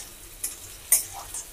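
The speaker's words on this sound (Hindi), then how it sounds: "क्योंकि हम इसको लहसुन के साथ भूनेंगे, इसका टेस्ट बहुत अच्छा आता है।" Cluster beans (guar) being sautéed with garlic give a soft, low sizzle with a few light stirring scrapes and clicks, fairly quiet and with no voices.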